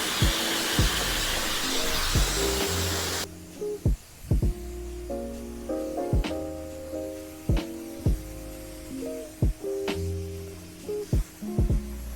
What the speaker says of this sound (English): Blast drying, you're literally just blasting it all off.